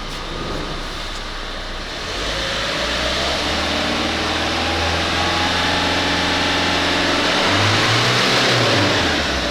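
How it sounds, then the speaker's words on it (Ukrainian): A Renault Kangoo 1.5 dCi diesel engine idles with a low rumble, then revs up and holds at higher speed, its pitch rising and falling, loud and close. "Зараз погазуємо, подивимося, як тиск палива при обертах буде."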